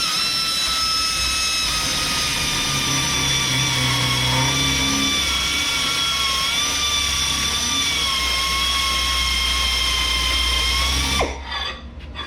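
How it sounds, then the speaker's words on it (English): A power drill whines steadily at high speed through a rear brake and rotor job on a 2001 VW Jetta 2.8L, running loud and close without a break before cutting off abruptly near the end. "so I'm going to switch over to the drill."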